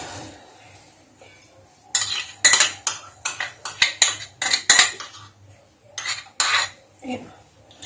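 A metal utensil stirs sugar and cinnamon into a boiling pot while making es bulbul, Moroccan panaci, giving close, repeated clinks and scrapes against the pot in irregular bursts after a quiet start.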